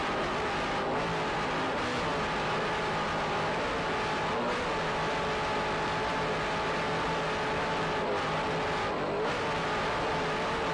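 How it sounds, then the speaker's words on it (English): Twin 550 hp Zool racing engines with MerCruiser drives roar aboard a 28-foot offshore racing powerboat at the 1993 U.S. Offshore World Championships, a loud, steady, close engine drone with slight surges throughout. "powered by two 550 horsepower Zool racing engines with Merc Cruiser drives"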